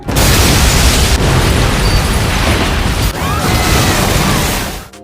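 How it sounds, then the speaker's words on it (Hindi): A massive explosion in the anime Terror in Resonance, a thunderous, continuous roaring blast with rumbling debris that fills about five seconds before dropping off abruptly. "Remember, there will be another boom if you don't solve it in time."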